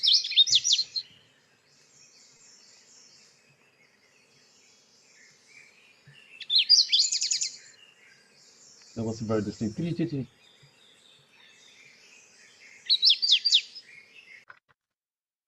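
A recorded warbler sings high, thin trilled phrases three times, each short and bright against near silence, and someone briefly speaks in the middle.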